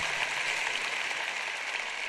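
Audience applause at a Joyce Meyer sermon: a steady, dense wash of many hands clapping, sustained evenly for the whole moment with no voices over it.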